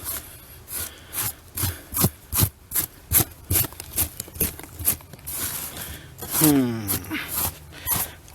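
Cloth or hand wiping dirt off a freshly dug-up porcelain sign, a close series of rhythmic rubbing strokes about twice a second, ending in a longer scraping smear.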